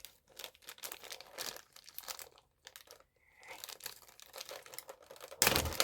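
Packing tape being torn and peeled off a parcel of figures from Japan, heard as close crinkling and ripping bursts with short pauses, ending in a louder rip.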